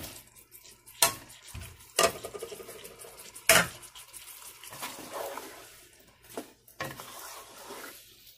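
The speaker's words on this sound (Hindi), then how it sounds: "जो ये पोटैटो डाल के इसको भून लेंगे" Potatoes for a degi aloo gosht mutton curry are stirred and fried in a pot, with sharp metallic scrapes of the spoon against the pot at irregular intervals over a soft background sizzle.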